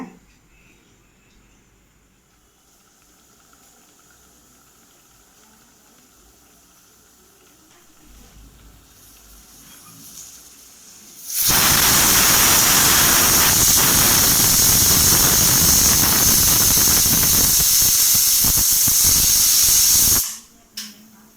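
After a quiet stretch, a pressure cooker cooking thinai (foxtail millet) pongal releases steam in a loud, steady hiss that lasts several seconds before cutting off abruptly.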